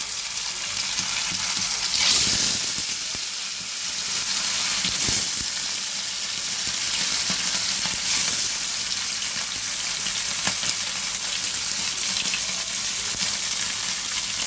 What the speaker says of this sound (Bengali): দেখো এইবারে মাছগুলোকে আমি একে একে ছেড়ে দিচ্ছি।